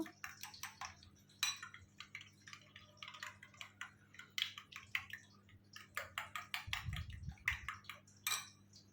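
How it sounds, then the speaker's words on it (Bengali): Two white chicken eggs are whisked together in a bowl for frying, giving quick, light rhythmic clicks and taps in irregular bursts, fairly close, with a brief low thump near the end and no talk. "ভালোভাবে ফেটিয়ে নেব"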